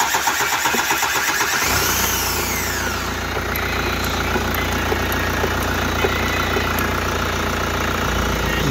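A freshly overhauled car engine cranks and catches, then settles into a steady, loud running idle with a constant mechanical hum and faint knocking.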